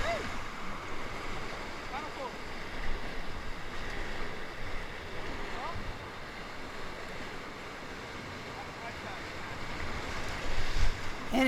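Whitewater churns around a kayak surfing a rapid on the Gauley River, a loud, constant roar of rushing, crashing water with wind noise on the microphone and a voice heard faintly over it.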